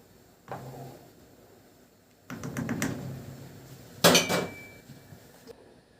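A spoon stirs tomato and vinegar sauce for baked chicken pasta in a metal pot, giving a few sharp clinks and scrapes against the pot with quiet gaps between, fairly faint and close.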